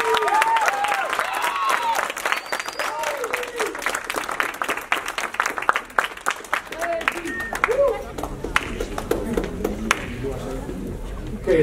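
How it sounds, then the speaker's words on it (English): An audience at a presidential election event applauds the candidates, a dense, steady wash of clapping with cheers rising above it and voices talking through it. "let's give these candidates a round of applause"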